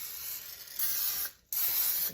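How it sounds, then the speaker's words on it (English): Cooking spray hisses into a baking pan in two steady bursts with a short pause between, close and fairly quiet, with no talking. "Spray this down the bottom and up the sides"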